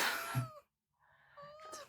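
A farm cat meowing close by to be let in, two clear drawn-out meows separated by a brief silence, with no talking.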